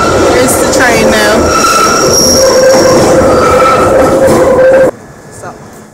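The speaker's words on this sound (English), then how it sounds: "Here's the train now." A London Underground train roars loudly into a station platform with squealing wheels and a steady metallic whine, then cuts off abruptly into quiet.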